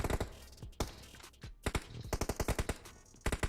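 Rapid bursts of automatic gunfire crackle through a shooting video game, with repeated sharp shots in quick clusters and short pauses, loud and close throughout.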